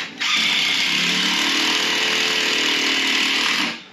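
A power drill drives long screws through a door frame into a two-by-four, a single continuous loud whirring burst lasting several seconds that starts abruptly and winds down at the end.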